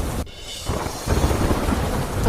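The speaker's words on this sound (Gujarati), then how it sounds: "અમદાવાદમાં મેઘરાજાએ કરી સવારી અનેક વિસ્તારોમાં વરસ્યો વરસાદ" Heavy rain pours steadily during a monsoon downpour in Ahmedabad, while deep thunder rumbles and swells through the wash of falling water.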